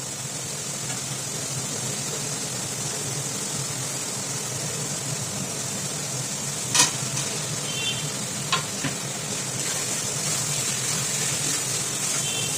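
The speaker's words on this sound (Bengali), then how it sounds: "এবার আলুটা দিয়ে একটু ভালো করে কষে দেবো।" Potatoes stir-fry in oily spice masala for a boal fish curry, with a constant low sizzle and a few isolated scraping clicks of a spoon against the pan.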